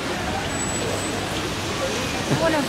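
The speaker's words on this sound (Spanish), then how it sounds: "Hoy está lloviendo." Steady rain falls outdoors as a continuous, even hiss filling the whole clip, with a faint murmur of voices in the background.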